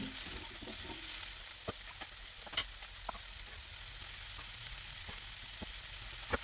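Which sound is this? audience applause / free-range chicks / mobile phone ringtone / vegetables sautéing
vegetables sautéing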